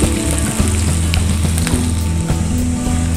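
Star anise, cardamom pods, cloves, cinnamon bark and onions fry in hot oil for bubur lambuk, a loud, close, steady sizzle with occasional sharper crackles and pops, and no voices.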